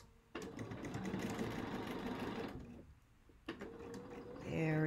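A sewing machine stitches quilt pieces in a fast steady whir, running for about two seconds, pausing briefly, then starting again, close and fairly loud, with a voice speaking around it.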